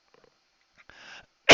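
A single harsh cough from someone with a chest cold, short and close, preceded by faint small noises and a brief breathy rasp.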